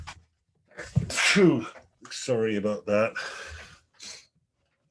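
A single sharp sneeze from a man with a cold, close to the microphone, followed by a brief spoken apology.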